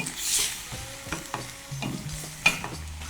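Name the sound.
stirring garlic, ginger and chili peppers in a pot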